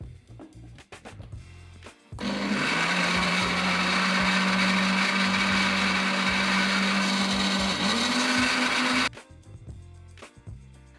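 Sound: blender blending dulce de leche ice cream mixture

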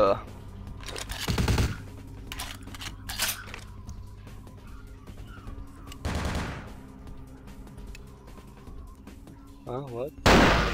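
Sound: explosions and gunfire in the video game Vampire the Masquerade Bloodlines

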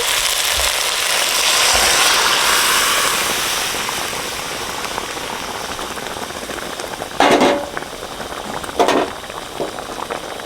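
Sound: boiled lentils added to a cooking pan with fish head

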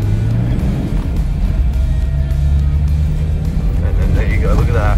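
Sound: Toyota Land Cruiser with 1HZ engine accelerating up a hill

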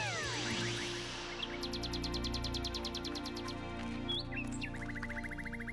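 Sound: nightingale singing

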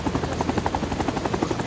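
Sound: helicopter in video game Rising Storm 2 Vietnam

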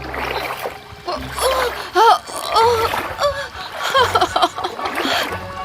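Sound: wading through splashing stream water

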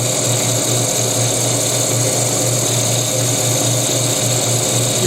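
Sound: sanding wooden prayer beads

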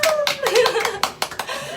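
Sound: clapping hands

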